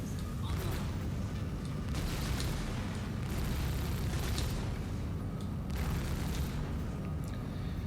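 A remote turret on the Centurion vehicle in Star Citizen fires continuously, making a dense, heavy rumble of booming shots with a few louder surges.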